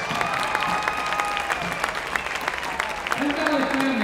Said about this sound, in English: let us give one more round of applause